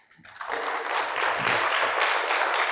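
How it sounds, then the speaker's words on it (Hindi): Audience clapping for a thank-you during a large numerology class, starting softly then swelling into steady, dense applause that fills the room without any voices. "ऊपर वाले के लिए थैंक यू के लिए तालियां बजाओ आप लोग"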